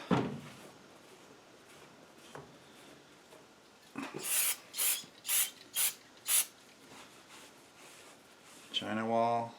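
Engine parts from a Ford 347 stroker build are wiped clean of solvents and oils with a rag. It gives a series of five rhythmic, close rubbing strokes after some quieter handling, and a voice speaks briefly at the end.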